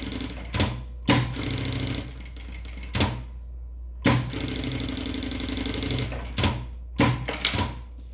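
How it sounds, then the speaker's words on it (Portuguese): A sewing machine stitches along the edge of a bag with a backstitch at the start, running in steady whirring bursts broken by sharp clicks and short pauses, close and fairly loud. "dou retrocesso aqui no início e faço uma costura aqui bem na beiradinha"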